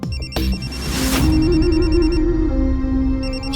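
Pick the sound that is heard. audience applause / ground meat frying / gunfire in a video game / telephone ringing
telephone ringing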